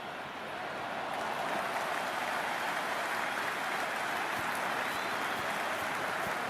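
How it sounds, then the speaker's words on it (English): Crowd noise in the cricket video game Cricket 26, a steady broadband roar of cheering and clapping like applause, sustained and fairly distant with no clear speech. "The crowd is electric right now."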